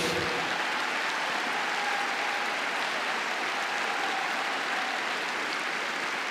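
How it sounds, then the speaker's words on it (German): Sustained audience applause for a dressage rider at an equestrian freestyle event in Oldenburg, a steady dense wash of clapping filling the arena throughout with no talk over it. "Christoph, dein Applaus aus Oldenburg"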